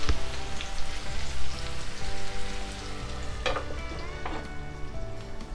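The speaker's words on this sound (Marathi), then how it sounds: "ही कैरी आपण शिजत ठेवूया।" Raw mango pieces sizzle and fry in a pan while being cooked for a mango pickle, giving a steady close crackle with a couple of sharper spits and stirring noises, and no talking.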